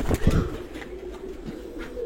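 A favourite pigeon gives a short burst of low cooing at the start, close and fairly loud, followed by quieter murmuring and no speech.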